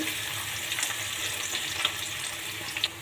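Chopped onions fry gently in a pan while cooking beef tripe curry, producing a moderate continuous sizzling hiss with a few soft stirring knocks.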